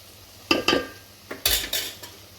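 Mutton pieces go into a pan of ground coconut masala for Agri-style dry mutton, giving a handful of close clattering knocks and scrapes against the metal, with no talk.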